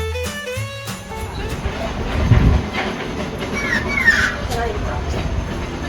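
A zoo tram rolling through Singapore Zoo, with a steady low rumble and soft rattling clatter, a few faint clicks and a light hiss, and brief muffled voices early on.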